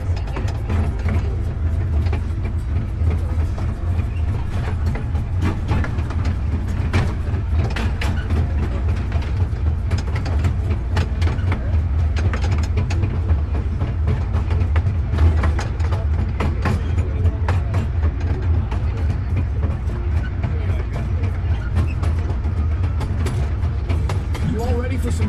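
Tour train rolling through the Dole Plantation in Hawaii, a continuous low mechanical rumble with ratcheting clatter of wheels and gears, steady throughout, while people talk over it.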